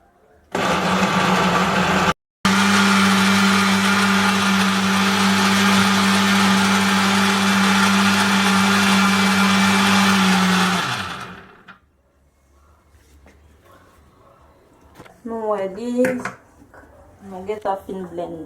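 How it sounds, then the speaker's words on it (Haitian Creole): A blender whirs loudly and steadily for about ten seconds while mixing cream for ice cream, stopping briefly once, then winding down before a person talks. "Juste nous allons blender les ensemble."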